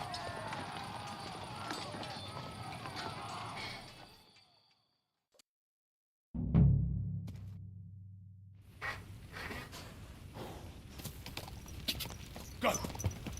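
Horse hooves clip-clop in the game Kingdom Come: Deliverance, a quick running patter that drops out into silence, returns with a heavy low thump, then resumes as close rhythmic hoofbeats.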